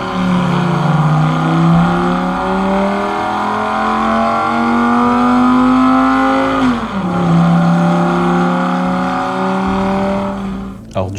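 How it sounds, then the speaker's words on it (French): Lamborghini Gallardo engine revving loudly and close, a sustained rising engine note that climbs, drops sharply, then climbs again before cutting off, with faint speech underneath. "Lamborghini Gallardo"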